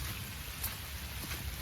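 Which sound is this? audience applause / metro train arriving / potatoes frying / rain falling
rain falling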